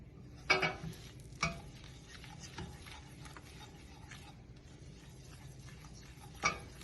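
Cashew nut powder being stirred in a pan, heard as sparse utensil clicks and scrapes against the metal, a few sharper knocks standing out over a quiet background.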